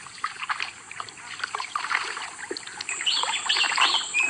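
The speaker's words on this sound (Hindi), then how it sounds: "मुझे सिर्फ उन चप्पुओं की आवाज सुनाई दे रही है जो पानी को चीरते हुए नाव को आगे" Oars pull a boat through water in the Sundarban mangrove forest, with soft rhythmic splashes and swishes blended with chirping birds and a steady insect-like hiss.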